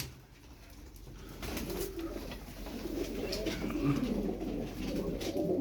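Purebred Turkish play pigeons, a family of parents and two young, coo softly and continuously, with faint rustling and background noise.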